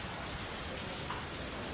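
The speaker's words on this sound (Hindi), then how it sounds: "इतनी खतरनाक बारिश हो रही है" Heavy rain pours down in Haldwani as a dense, steady hiss of drops that fills the whole stretch evenly, with no voices.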